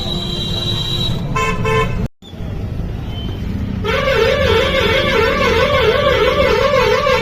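Vehicle horns honk repeatedly in busy Indian street traffic, loud and close, with a long warbling blast and overlapping toots over engine noise.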